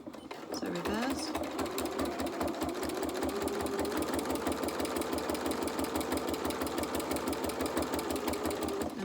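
A sewing machine fitted with a walking foot stitches a seam through the layers of a fabric quilt, a loud, fast rhythmic chatter that starts after a brief pause and runs steadily, with a person talking over it.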